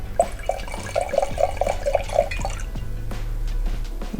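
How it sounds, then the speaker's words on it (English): Red wine, a 2018 Tenute Lunelli Montefalco Sagrantino, pours into a glass as a run of close, regular liquid drips and glugs, then a quieter trickle against a faint background hum. "I'm going to pour just a little bit more."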